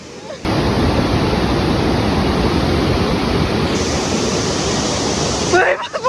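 Strong, churning water at Balagbag Falls makes a loud, dense, continuous roar close to the microphone, holding steady for several seconds before it cuts off abruptly near the end.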